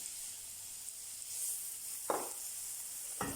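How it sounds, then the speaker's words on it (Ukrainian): Soft, constant sizzle of onion frying in a hot pan, broken by two brief louder bursts of crackle. "В гарячу сковорідку Вкидаємо цибулю та жаримо до м'якості"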